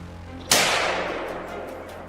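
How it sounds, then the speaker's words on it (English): A single loud rifle gunshot during a winter wild boar hunt in a swamp cracks sharply, then a long echo rolls away and slowly fades over about a second and a half. "A thunderous gunshot echoed across the swamp, instantly dropping one of the boars in its tracks."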